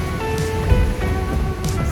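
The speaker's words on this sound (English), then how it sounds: "So the waves really aren't that bad." Ocean waves wash and slosh around a sailing boat on a passage toward South Africa, a steady close rushing of water with a few louder surges and no voices.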